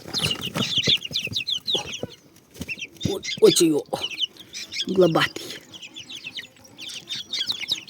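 Chickens cluck and chirp close by in a busy, continuous flock, while someone talks over them.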